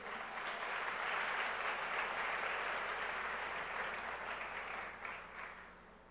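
Church congregation applauding God during a sermon, a broad, steady wash of clapping from many hands that swells early, then gradually thins and fades toward the end.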